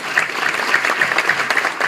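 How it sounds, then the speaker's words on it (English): A room full of people at a business awards event applauds steadily, dense close clapping sustained at full volume from start to finish. "So let's give LIBN folks a big round of applause."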